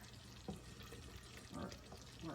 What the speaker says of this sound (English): while it's really boiling, I don't really stir it much